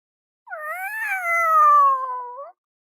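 A voice imitates a cat, drawing out a single rising-and-falling meow for about two seconds, clear and close against silence.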